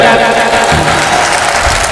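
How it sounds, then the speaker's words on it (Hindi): Audience applause at a mushaira, a dense steady wash of clapping from a large crowd, loud and continuous, with faint voices mixed in. "जोरदार तालियां बजाइए जो बजा रहे हैं।"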